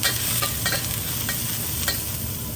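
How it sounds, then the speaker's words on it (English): Onions, carrots and corn are stir-fried in oil in a smoking-hot wok over high heat, a loud continuous sizzle broken by quick scraping strokes of the spatula, close up with no voices. "We're going to keep stirring the vegetables on high heat"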